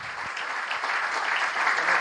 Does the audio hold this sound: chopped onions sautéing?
no